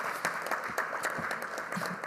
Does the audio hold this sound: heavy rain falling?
no